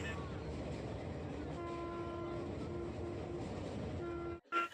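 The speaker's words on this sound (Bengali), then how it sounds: "তো গাইজ আমাদের ট্রেন শিয়ালদায় পৌঁছে গেছে" A train rumbles steadily with a low, continuous roar and a faint sustained horn tone as it arrives at Sealdah station in Kolkata, then it suddenly cuts off near the end.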